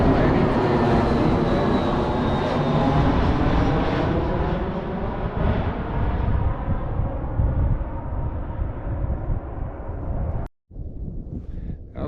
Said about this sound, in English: Here's United Airbus